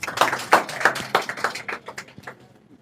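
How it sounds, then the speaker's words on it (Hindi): A classroom of students claps for a classmate at the board, a loose burst of distinct hand claps that starts strong and thins out, fading toward the end. "एक बार निदा के लिए जोरदार तालियां।"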